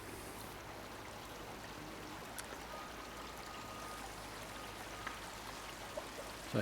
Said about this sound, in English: Just started to rain, so this is the first rain we've had.